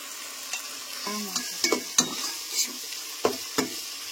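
Masala with mint sautéing in a pan on medium heat, a soft steady sizzle under a series of sharp scraping stirs and light clatters, close and alone.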